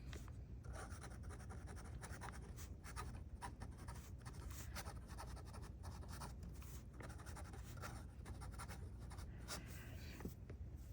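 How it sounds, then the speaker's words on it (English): A Sailor Pro Gear fountain pen scratches across paper in close, quiet, continuous strokes, a soft dry rasp like a graphite pencil with short pauses between words. "it sounds like I'm writing on paper with a graphite pencil"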